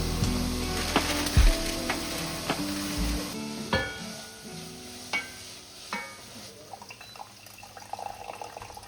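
Food sizzles and crackles in a frying pan, a steady frying hiss broken by clicks and clatter of utensils stirring, with a low thump near the start.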